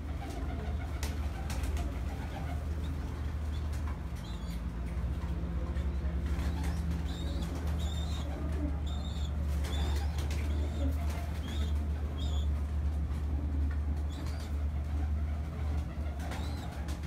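Pigeons on a rooftop coo in soft, repeated low calls against a steady low hum of outdoor background noise, with faint chirps and occasional brief sounds scattered throughout.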